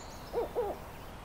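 A northern spotted owl hooting in a Pacific Northwest forest, two short clear hoots in quick succession, moderately near against quiet background.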